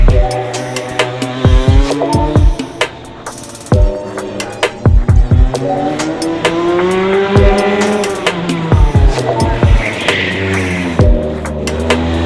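A Rotax racing kart accelerates hard on a desert track, its engine loud and close, climbing through rising revs with repeated sharp shifts and brief drops before climbing again, alone and with no talk.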